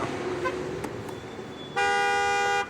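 A single loud car horn blast sounds near the end, sharp and steady for under a second, after a stretch of quiet road ambience.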